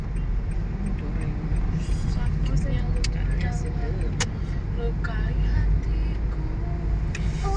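Steady road traffic hum heard from inside a moving car in busy Bogor, a constant low rumble with occasional faint passing vehicles, while people chat inside the car.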